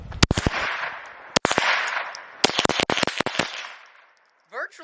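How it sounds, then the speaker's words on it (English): A Remington Model 597 semi-automatic .22 Long Rifle firing subsonic rounds: sharp, close cracks in quick bursts and irregular strings over about three and a half seconds, followed by a short voice at the end. "It is a 22 long rifle, Remington Model 597. Just a semi-automatic. Now, we are using subsonic shells"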